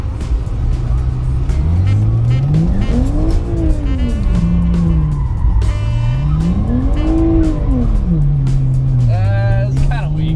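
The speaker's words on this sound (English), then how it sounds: "let's see if we can do a donut" A BMW E90 spinning a donut, engine revving in two long rising and falling sweeps with loud tire squeal, close and continuous, while people talk over it.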